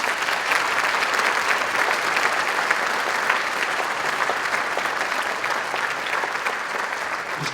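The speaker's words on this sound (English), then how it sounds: "Let's give them another nice round of applause" Sustained applause from a concert audience at an orchestra holiday concert, a dense, steady wash of many hands clapping that holds evenly for several seconds with no voices.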